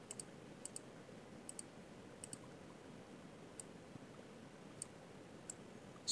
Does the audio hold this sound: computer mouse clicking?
yes